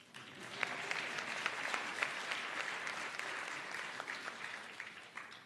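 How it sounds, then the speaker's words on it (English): A summit audience at the Africa Youth in Tourism Innovation Summit claps steadily, a dense wash of applause with scattered sharper claps, moderately distant in a hall, lasting the whole moment without speech. "Please give me a cheer."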